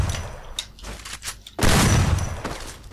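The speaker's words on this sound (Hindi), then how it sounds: "अब मारेंगे भाई शॉटगन से, शॉटगन से इस लड़की को मारेंगे भाई" Shotgun fire in the Free Fire video game, with a few sharp shots early and then a loud, sustained burst of gunfire and booms close up, with no talking.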